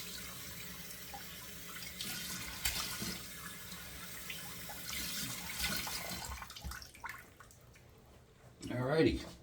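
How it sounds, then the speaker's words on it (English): Cold water runs from a bathroom sink tap in a steady hiss, with a louder splash near the end as water is thrown onto the face; a few faint background sounds mix in. "now it's time to close the pores, turning on the sink to the cold"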